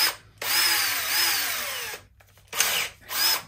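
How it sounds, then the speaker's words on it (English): A power drill fitted with a guide bit runs in two long whirring bursts and a shorter one, drilling tuner screw holes on a Firebird guitar kit, loud and close with brief pauses between. "guide drill bit"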